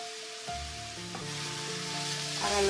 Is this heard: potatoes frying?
yes